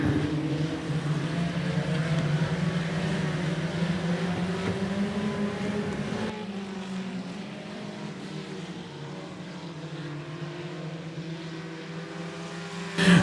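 Race cars roar around a speedway oval at 105 Speedway, a continuous blended engine drone from several cars at middle distance that shifts and thins partway through.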